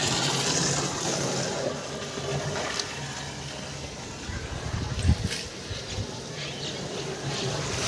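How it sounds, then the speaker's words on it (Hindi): Borewell motor pump running as water gushes and splashes steadily, a continuous close wash of flowing water with a brief louder surge partway through. "हम लोग का मोटर स्टार्ट हो गया।"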